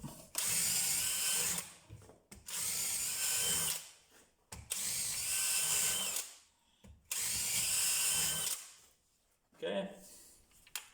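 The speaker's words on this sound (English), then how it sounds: "I will show you how it's drilling." A DeWalt DCD996N 18V cordless drill bores a 10 mm hole in repeated loud bursts of a few seconds each, whining up and stopping with short pauses between runs, and a brief voice is heard near the end.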